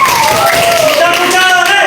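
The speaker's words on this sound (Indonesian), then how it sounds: "Berikan tepuk tangan kepada kelompok A." A classroom applauds a student group, a short burst of clapping close by, mixed with voices and a sliding tonal sound.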